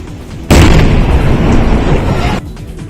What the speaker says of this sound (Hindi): इस दौरान उसमें धमाके भी होते सुनाई दिए, जिसने आसपास के लोगों को खौफ से भर दिया।